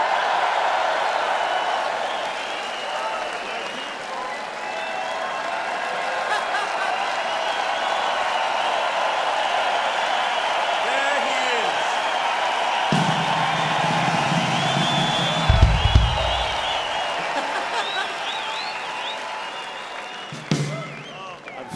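A large concert crowd at a 40th-anniversary show applauds and cheers in a steady, dense wash of clapping and whoops lasting throughout, with a few low thumps and a sharper bang near the end.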